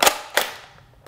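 Two sharp gunshots fired at Oakley safety glasses, close and loud cracks about a third of a second apart, each trailing off in a brief fading echo.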